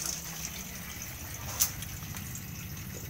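A faucet in a Bailey Pegasus Genoa caravan runs with a pump-fed water stream, giving a soft, steady gush at low volume, with a single sharp click partway through.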